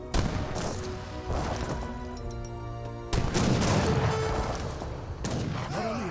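Fort cannon fire aimed at an explorer in the Age of Empires 3 strategy game: a few sharp booming bursts with crashing impacts, layered over busy in-game battle sounds and background music.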